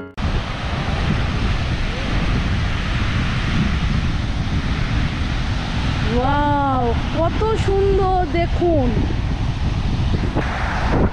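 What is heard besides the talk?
rough sea waves at Marina Beach, Chennai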